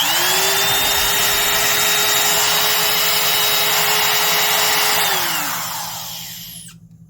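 A Porter-Cable 7301 laminate trimmer with new bearings runs loud and smooth, a steady high motor whine with no voices, then spins down and fades to near silence over the last two seconds.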